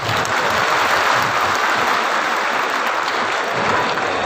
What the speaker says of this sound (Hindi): इसलिए समाज के नाम पर आप सब लोग जोर से ताली बजाइए।